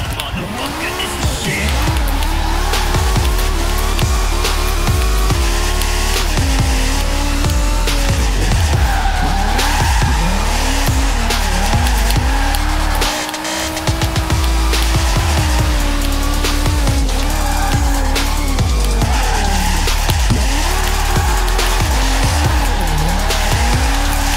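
A BMW E60 drift car in Forza Horizon 4's winter setting, tires squealing in long wavering skids over a loud revving engine that rises and falls through repeated slides, with a voice talking over it.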